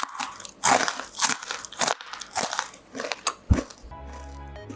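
Crunchy coconut sagon cookies are bitten and chewed up close, giving a run of loud, dry, crackling crunches in quick irregular bursts.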